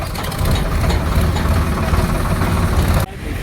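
A tractor engine idles close by, a steady low rumble that runs evenly for about three seconds before a brief drop in level at the end.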